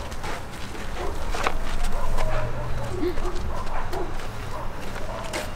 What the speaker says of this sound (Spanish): ¿Están escuchando a los perros ladrar?